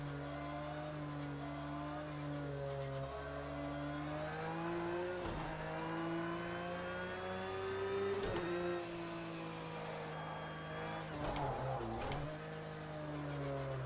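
Porsche 911 GT3 race car engine in Project Cars 2 at Mount Panorama, droning steadily through the gears with a strong harmonic whine, sharp shift breaks and brief dips as it brakes on a downhill section, loud and close with no talk.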